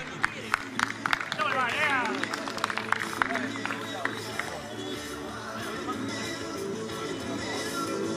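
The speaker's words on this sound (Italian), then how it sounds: "L'applauso anche a Mario." At a Zonapontina League 2011/2012 award ceremony, an audience claps for a player amid crowd chatter, with sharp individual claps and murmuring voices throughout.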